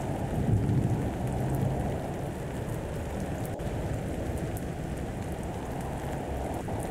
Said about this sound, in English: Oh, man, they got acid rain down there.